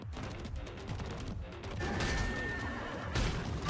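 A horse whinnies amid a busy, dense Stellar Blade game soundtrack with mechanical clatter and hoof-like clopping, continuous and fairly loud.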